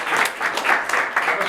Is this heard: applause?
yes